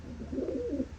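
Young racing pigeons give a soft, low, throaty coo, one short rolling call heard close up.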